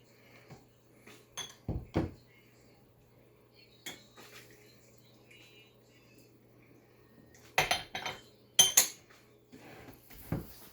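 Glass and ceramic teaware clinks and knocks during a rinse of Yunnan tea leaves, with a few sharp clatters spread over a quiet room and water handling in between.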